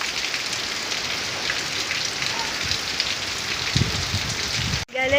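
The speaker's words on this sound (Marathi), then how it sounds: "असं जोरात पाऊस चालू झालेला आहे आता" Heavy rain pours down in a dense, constant hiss during a power outage, with a brief thump and dropout near the end.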